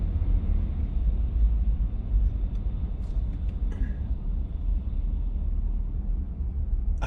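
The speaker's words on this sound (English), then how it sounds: "That is a concrete truck." A concrete truck rolling along a quiet Nashville street at night, a steady low engine and road rumble holding close and loud throughout, with a few faint higher clicks and squeaks on top.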